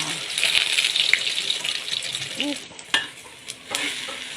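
Eggs fry in a pan with a steady crackling sizzle, joined by scraping stirs and a few sharp clacks of a utensil against the pan, close and fairly loud.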